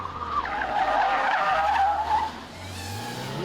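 A car skids loudly through a late handbrake turn, its tires squealing in a sustained screech for about two seconds over engine hum, then easing off as the engine note carries on.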